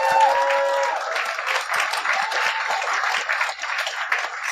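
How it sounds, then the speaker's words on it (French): A live podcast audience gives a warm burst of applause, dense clapping from a mid-sized crowd that holds steady for several seconds, with a brief voice audible at the start. "J'aimerais ça qu'on leur donne une bonne main d'applaudissement."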